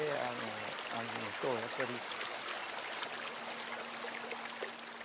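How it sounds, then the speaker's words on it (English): Water streams steadily back into fish tanks in an aquaponic vegetable farm, a continuous close trickle and splash, with a voice speaking briefly over it at the start. "The water cleaned from the plants is returned to the fish tanks."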